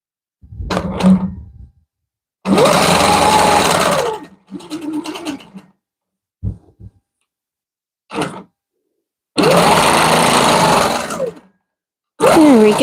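A longarm quilting machine stitches a quilt in several loud, close mechanical bursts of a few seconds each, separated by short quiet pauses and a few soft knocks.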